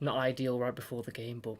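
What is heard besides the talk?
None of the usual background noises is heard.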